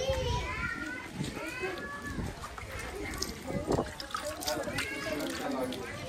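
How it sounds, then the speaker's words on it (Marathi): Water splashing and trickling as feet are washed at a hillside temple near Pune, heard under continuous talk and children's voices outdoors. "चला पहिले पाय धुवून घेऊया आपण."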